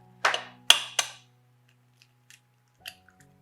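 A single egg is cracked into a bowl for breading fish, giving a few sharp close taps and a crackle of shell, then quiet with faint small clicks.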